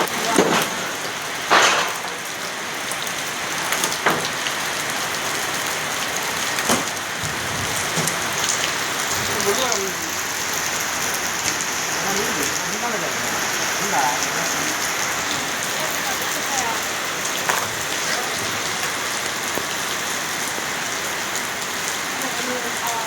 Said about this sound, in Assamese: বৰষুণ জোৰকৈ আহিল